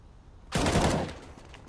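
A single loud, close burst of automatic gunfire from Counter-Strike erupts out of quiet and lasts about half a second before fading into faint background game noise.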